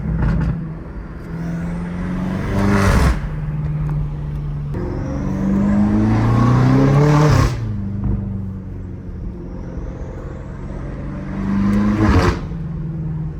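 A BMW M5 Competition climbs through the gears on the road, its engine revving up in rising sweeps and dropping sharply at each of three quick shifts, loud and close from inside the car.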